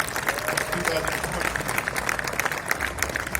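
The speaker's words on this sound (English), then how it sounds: "Another big round of applause for our champions" An audience at a modelmania 2020 winners ceremony gives a continuous round of applause for the champions, a steady even patter of many hands mixed with crowd noise and some talk.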